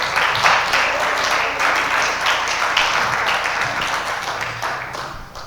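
A church congregation claps loudly for the Lord during a Spanish-language sermon, a thick burst of applause that slowly thins out toward the end.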